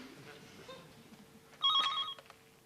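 Telephone ringing indoors in a 1993 British home, one short burst of electronic trilling that stops after about half a second, with a voice faintly heard before it.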